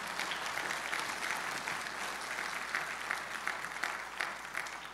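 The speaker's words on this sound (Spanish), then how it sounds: "Démosle ese fuerte aplauso al Señor." Steady applause from a church congregation after a sermon, a dense continuous patter of many hands that stays even for several seconds.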